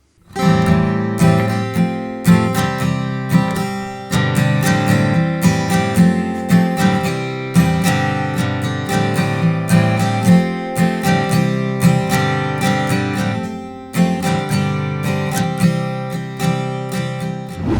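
Strummed acoustic guitar playing steady chords with a clear rhythmic pulse, close and full-bodied, with no voices.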